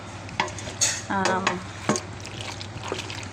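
Macaroni chicken salad with cream being mixed by hand in a bowl, giving soft wet stirring and scraping sounds with a few short clinks, close and fairly quiet, with no voices.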